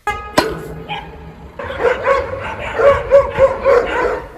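Street dogs bark in an aggressive burst while attacking a young girl outdoors: a sharp yelp first, then a loud, rapid run of overlapping barks and snarls from several dogs close by.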